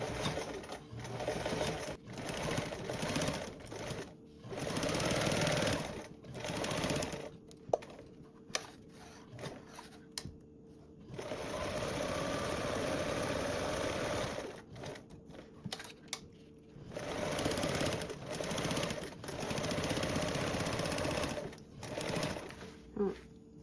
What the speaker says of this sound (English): now I'm gonna top stitch these two seams and baste along the sides